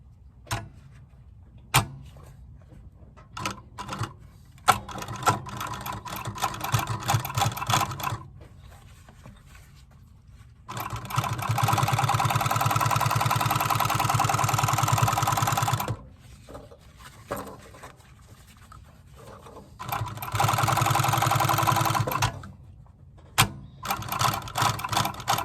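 A sewing machine stitches the top piece onto an Alden Indy boot, running in two steady whirring bursts of several seconds each, with short clicks and mechanical taps in between and quiet pauses.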